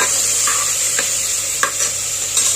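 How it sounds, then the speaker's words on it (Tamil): Curry leaves crackle in hot oil with sautéed onion, ginger and garlic, a steady bright sizzle broken by a few sharp pops and scraping stirs, close and continuous with no voices. "இப்போ கருவேப்பிலை போடலாம்"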